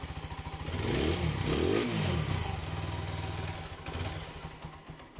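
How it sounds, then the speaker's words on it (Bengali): TVS Apache RTR 4V motorcycle engine running close by, with a steady low idle that swells into two quick revs early on, then settles back to a rumbling idle, heard alone. "ইঞ্জিন সাউন্ডটাও কিন্তু চমৎকার অবস্থায় আছে।"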